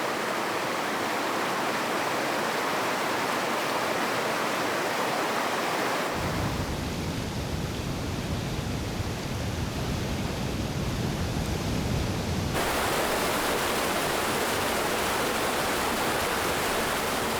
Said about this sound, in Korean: 마른 하천은 어느새 폭포로 변했습니다.